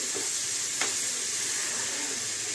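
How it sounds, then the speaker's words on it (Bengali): Spice paste fries in oil in a pan for a spicy mustard aubergine curry, making a continuous close sizzle with one brief clink of a utensil. "একটু সুন্দর তেল ছেড়ে গেছে, মানে মশলাগুলো সব কষে যাবে"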